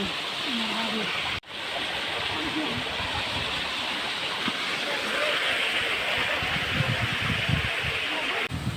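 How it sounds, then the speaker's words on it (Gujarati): Fresh water pours steadily from a running motor pump on a farm, a broad continuous rush heard close, with a voice speaking over it. "જો તાજુ પાણી જાય છે વાડીએ"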